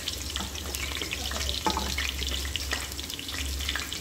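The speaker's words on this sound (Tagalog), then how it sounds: "Kasbara or coriander leaves. Halo-haloin lang natin yun" Coriander leaves being stirred into biryani masala in a hot pan, a continuous loud sizzle of frying with scraping stirs throughout and no talking.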